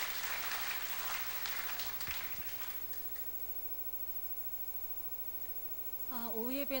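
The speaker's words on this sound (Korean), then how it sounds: "큰 박수로 환영합니다." A church congregation applauds at a Sunday afternoon worship service, a dense wash of clapping that fills the room and gradually fades out. A voice begins speaking near the end.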